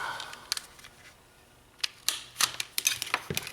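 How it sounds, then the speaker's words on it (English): Sharp clicks and snips from a cutter biting through 16 gauge hookup wire with a strong sheath, several brief crisp cuts clustered in the latter half, close and alone with no talk. "this is the actual good 16 gauge hookup wire with the strong sheath. Let's go ahead and cut some of that."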